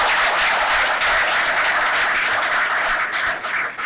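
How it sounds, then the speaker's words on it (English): Audience applause at a recruit passing out parade, a loud sustained wash of many hands clapping close by that eases slightly toward the end. "Come on, clap now."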